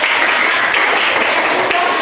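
Students in a classroom give a burst of applause after a group finishes its presentation. The clapping is close, loud and dense, filling a short two-second stretch without pause.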